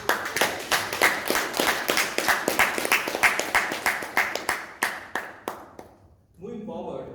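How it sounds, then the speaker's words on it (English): Applause at a Toastmasters meeting in Bangalore, a small room of people clapping steadily and close at hand, about three beats a second, that fades out before a voice begins. "Let us give another round,"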